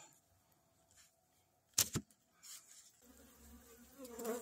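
Honey bees buzzing faintly at an opened hive under a brick-weighted top, a low steady drone broken by a couple of sharp close knocks and rustles midway.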